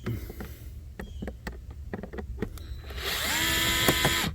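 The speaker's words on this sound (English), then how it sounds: "You guys know about this power driver right here? This little power screwdriver?" A small cordless power screwdriver runs near the end with a steady high whine, after a run of sharp clicks and knocks while working on the A/C and heater blower of a W221 Mercedes S550 4Matic; no talk.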